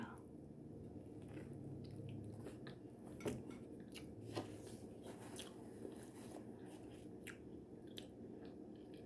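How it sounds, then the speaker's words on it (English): Someone bites into a tuna sub on French bread with dill pickle slices and lettuce, giving soft crunchy chews and a few sharp snaps close to the microphone over a quiet background. "So let's dig in and take a bite."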